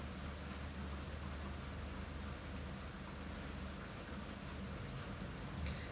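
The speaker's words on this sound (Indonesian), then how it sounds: "Hujannya gede banget ih." Heavy rain falls as a steady, faint wash of hiss and patter, continuous and even, with no voices.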